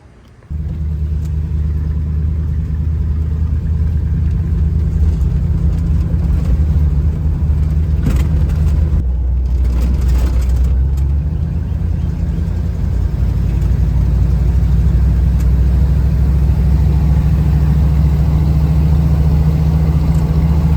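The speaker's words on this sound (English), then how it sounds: "That's a cool truck." A truck engine runs loudly and close for the whole stretch, a deep steady rumble with a brief surge in the middle, and no voices.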